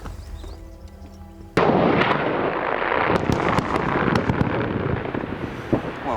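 Mine blast set off by a firing controller: a sudden loud broadband explosion at about 1.5 s, followed by a sustained rumbling roar with crackling debris for several seconds.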